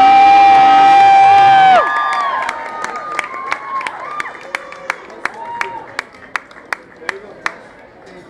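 Crowd applause with cheers and whoops rings out after the Bride of Frankenstein is named winner of a themed costume contest, following a voice over music at first, then steady clapping with sharp scattered claps and shouts.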